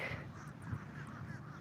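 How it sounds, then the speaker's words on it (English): Crows caw faintly at a distance outdoors under steady background noise, with several short, harsh calls spread across the scene. "These crows"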